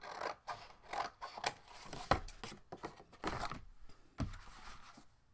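Scissors trimming excess paper from the cover of a 6x6 mini album, a run of crisp, close snips and cutting strokes in an uneven rhythm, with no talking.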